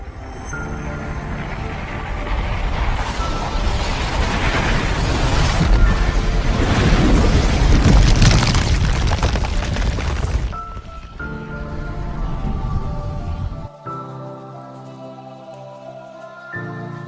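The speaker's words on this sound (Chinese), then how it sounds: "注意，前方高能，不，前方核能，前方太阳爆炸。" A dramatic sound effect for the sun exploding: a dense, loud roaring rumble swells and churns for about ten seconds, then cuts to a quieter sustained tonal drone with music-like chords.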